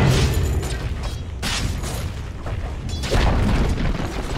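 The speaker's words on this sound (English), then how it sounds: "Dire's top tower has fallen." A tower being destroyed in the video game Dota 2: a dense, booming explosion with rumbling, crumbling noise that swells and surges continuously for several seconds.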